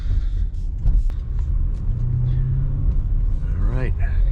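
A 2024 Porsche Cayenne S with a V8 cruises along with a low, steady engine and road rumble beneath someone talking throughout, the drone holding even with a brief rising tone near the end.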